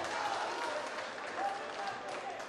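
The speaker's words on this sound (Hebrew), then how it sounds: "קהל רעשני מאוד כאן הגיע כדי לתמוך במרק ברגר" A noisy crowd roars steadily at a kickboxing fight in Tel Aviv, a dense, distant wall of cheering under a commentator's voice.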